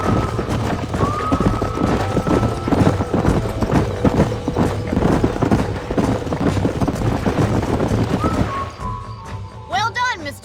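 Horse hooves clip-clop steadily through a Western ranch scene in Red Dead Redemption, with game music and someone talking over it, and a brief whinny near the end.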